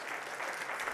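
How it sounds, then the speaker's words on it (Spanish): Church congregation clapping together in a dense burst of applause, steady and moderately distant, lasting about a second. "Dale un fuerte aplauso al Señor."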